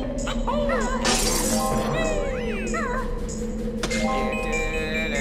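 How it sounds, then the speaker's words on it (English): The Banjo-Kazooie video game plays its glass-breaking shatter effect as a bright crash at the moment a timer runs out, mixed with chiming game music and other warbling sound effects. "I love how you hear the sound of glass breaking as soon as it hits zero."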